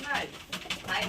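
Pigeons coo in a brief, close burst of soft rolling calls, with a voice heard alongside.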